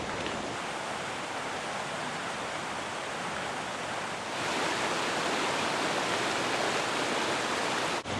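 A mountain stream rushes through a gorge near the Zugspitze as a steady, close, full-bodied roar of running water that swells slightly halfway through, with no voices.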